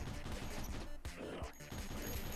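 A rifle resembling a cross between a Dragunov and an AK fires in a zombie-themed flash video game, giving a dense, noisy crackle of gunfire with a couple of sharper shot transients and no speech.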